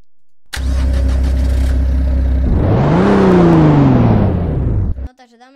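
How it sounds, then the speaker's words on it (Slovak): A Mercedes engine in a driving video game: after a steady low idle-like hum, a loud engine start bursts in and roars, its pitch sweeping up and then easing down for a few seconds before cutting off abruptly. "dám tam to auto, čo strašne hučí"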